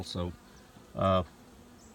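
A honeybee buzzes around a beekeeper at the hive in two short close passes, each loud and brief with a gap of quiet between.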